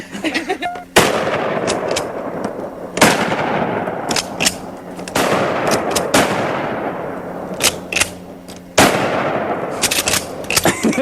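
Sawed-off shotgun firing slugs, several loud, sharp blasts spaced a couple of seconds apart, each with a booming tail.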